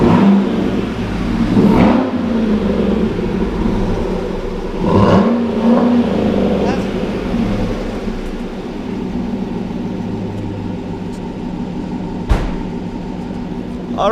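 A Cadillac Escalade fitted with a Corsa exhaust revs loudly nearby, its deep exhaust note swelling in a few bursts before settling into a lower drone, with people talking over it.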